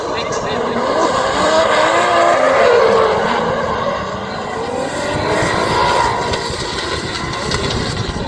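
Drift karts at the Irish Drift Championship at Kartworld Watergrasshill, engines buzzing loud and close with rising and falling revs as they slide, while a commentator talks excitedly over the racing.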